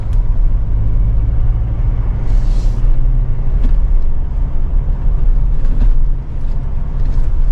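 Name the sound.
Mahindra Thar Roxx driving in third gear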